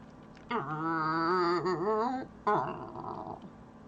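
A person's voice imitates an engine noise with a sustained, wavering hum that rises and falls for nearly two seconds. After a short pause comes a second, shorter burst of the same vocalized motor sound, heard alone and close.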